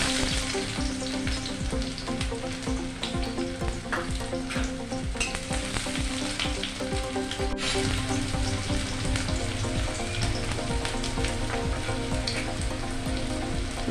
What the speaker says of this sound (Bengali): এবার আমি দিয়ে দিচ্ছি পেঁয়াজ আর রসুন।